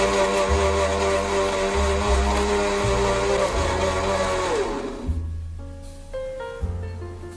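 An electric mixer grinder blending mango pieces with sugar gives a loud, steady motor whine with a churning rumble, then winds down and stops, leaving faint clinks and settling sounds.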